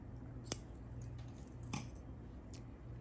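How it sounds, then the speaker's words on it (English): Scissors cut through yarn, finishing a crocheted beanie: a single crisp snip near the start, a softer second snip later and a faint click near the end. All of it is quiet and close, with no talk. "Cut off the yarn."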